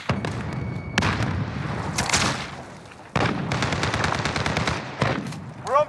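In a Call of Duty Modern Warfare match, a grenade blast booms amid bursts of rapid automatic gunfire, loud and close, with several sharp cracks and rolling explosions between volleys.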